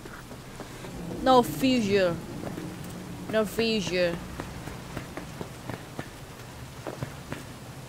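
Light rain patters steadily across a city slum street in Cyberpunk 2077, with someone speaking over it and scattered drip-like ticks throughout.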